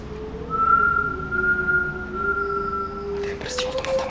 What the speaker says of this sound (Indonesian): Ada yang bersiul, teman-teman.